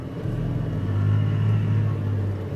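A Mansory Lamborghini Aventador supercar drives past on a London street, its deep engine rumble swelling to a peak and easing off again as it passes close by, with no talk.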